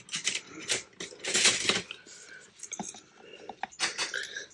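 Scissors snip through a fabric tag from behind in a series of short, close, crisp cuts with brief pauses between them, plus faint handling rustle.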